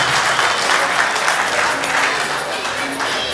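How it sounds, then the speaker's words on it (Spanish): Sustained applause from a crowd at a company awards ceremony, steady dense clapping throughout without pause, fairly loud and close. "Otro aplauso más fuerte para nuestros compañeros"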